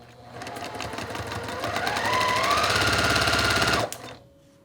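A sewing machine runs a continuous seam on a quilt block with pink thread: a fast, steady stitching whir that builds slightly, holds for a few seconds, then stops abruptly.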